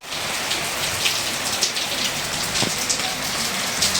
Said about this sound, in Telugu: కిలోమీటర్ నడిచామో లేదో కానీ ఫుల్ వర్షం వచ్చింది